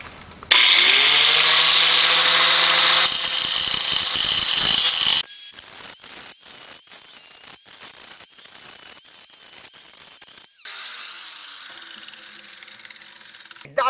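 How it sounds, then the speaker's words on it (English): A saw disc grinds an aluminum bumper extension for a ProMaster van, a loud shrieking whine with a steady metallic rasp for several seconds. The grinder then spins down into quieter clicks and scrapes before a second, softer stretch of grinding. "That is a result of grinding with a saw disc"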